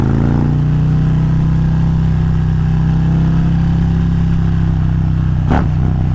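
Harley-Davidson Road Glide performance bagger motorcycle with a new clutch, its engine rumbling loud and steady while riding, with a sharp brief clatter near the end.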